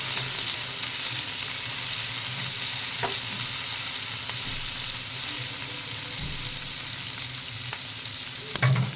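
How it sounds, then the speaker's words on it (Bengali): Soybean chaap fries in hot ghee with a steady, even sizzle throughout, punctuated by a few soft stirring clicks, close and alone without any voices. "এই ঘিয়ের মধ্যে ভাজলে খুব ভালো হয় গন্ধটা।"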